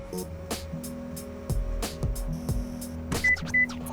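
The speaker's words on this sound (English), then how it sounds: "Power rear seats. Oh yeah, on both sides." Power-folding rear seats in a 2015 Nissan Murano give off a few short electric motor whirs and soft mechanical clunks close by, with a couple of faint electronic beeps and no talking.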